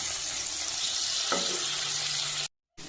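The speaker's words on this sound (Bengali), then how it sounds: "কড়াইতে তেল দিয়ে গরম করে এর মধ্যে মাছগুলো দিয়ে দিলাম এরপর মাছগুলো একে একে এপস এপস করে ভালোভাবে ভেজে নিলাম" Fish pieces frying in hot oil in a kadai for a brinjal fish curry give a loud, close, steady sizzle with a light clatter midway, ending in a brief cut to silence.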